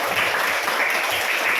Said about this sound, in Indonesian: Kita berikan tepuk tangan yang meriah untuk kita semua.